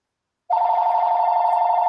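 A telephone starts ringing abruptly during an online personal-training webinar, a steady electronic ring holding one tone loud and close after a moment of silence.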